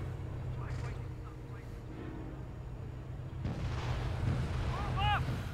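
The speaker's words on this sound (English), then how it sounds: "Looks like it's just a blind barrage to this general area." An artillery barrage in Company of Heroes 1 rumbles as low, distant booms under a steady roar, while voices speak over the bombardment, which grows slightly heavier toward the end.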